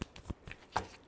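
A deck of tarot cards being shuffled: a few soft, quick riffling flicks spread across about a second, faint and close by, with no voice over them.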